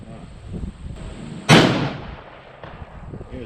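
A single sharp rifle shot from a 6.5 Creedmoor firing Hornady 140-grain BTHP loads rings out at an outdoor range, loud and close with a short decaying tail, after a voice speaks quietly beforehand.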